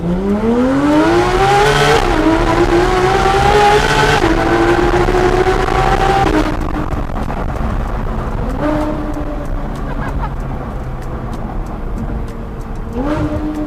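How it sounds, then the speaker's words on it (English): Loud Porsche GT3 RS engine revving repeatedly through a higher-pitched Ryft exhaust, pitch climbing and dropping with sharp throttle blips, close and continuous with no talking. "the Ryft exhaust has a higher pitch sounding exhaust"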